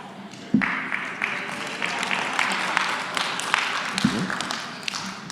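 An audience claps steadily in a hall, a sustained wash of many hands at moderate distance with a few sharper nearby claps.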